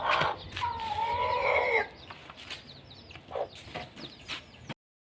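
Hens and chicks cluck and chatter close by at feeding time, with a loud run of calls at the start and then scattered clucks and peeps, no one speaking.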